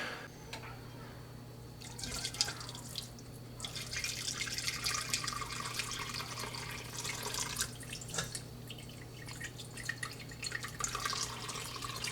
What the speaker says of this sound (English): And then I strain it through the strainer here.